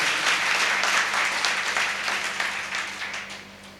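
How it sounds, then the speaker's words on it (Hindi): A seated audience claps at a business meeting, loud and steady at first, then gradually fading toward the end. "एक जोरदार ताली होना चाहिए सर"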